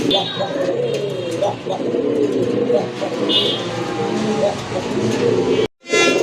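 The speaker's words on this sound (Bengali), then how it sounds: "আরও একটা নর কবুতর, এটাও সিলভার গড়া।" Silver-colored pigeons, including a male, coo repeatedly and close by, layered over a continuous murmur of voices and background bustle.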